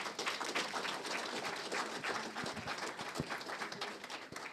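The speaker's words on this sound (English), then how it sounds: "Give her another round of applause." Audience at an employers' federation annual general meeting claps for a speaker, a lively crackle of many hands with a few sharper, closer claps standing out, continuous throughout with no voices.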